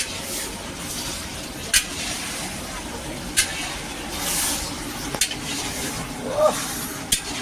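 A pan of green chilli curry is sautéed and stirred, giving a steady sizzling hiss with a few sharp scrapes and clinks of the spoon against the pan.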